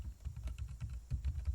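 Someone types briefly on a computer keyboard. The keys click softly and close by in a quick, uneven patter, with no voices.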